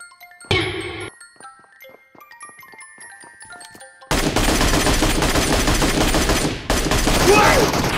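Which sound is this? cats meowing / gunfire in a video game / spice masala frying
gunfire in a video game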